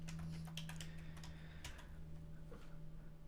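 Faint, quick clicks of keys on a computer keyboard come in irregular bursts over a low steady hum, with no voices.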